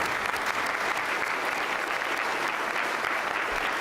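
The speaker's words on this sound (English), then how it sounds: "let's have a round of applause to recognize them and thank them." Steady, dense round of applause from a seated audience at a community college foundation scholarship reception, sustained clapping throughout with no voices rising above it.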